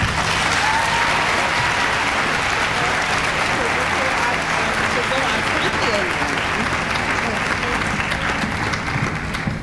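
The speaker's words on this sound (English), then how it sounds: "Another round of applause for Christopher Chisel, 6th grader, Lake Taylor Middle School" A school auditorium audience applauds a sixth-grade student speaker, dense, sustained clapping from many hands that stays loud and even for the whole stretch.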